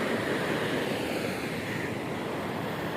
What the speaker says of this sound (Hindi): और पानी की खामोशी और ये पानी का शोर